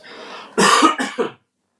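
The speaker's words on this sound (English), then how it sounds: "excuse me, everybody, but clear my throat." Someone clears their throat close up, a breathy lead-in followed by two or three rough, forceful hacks, then silence.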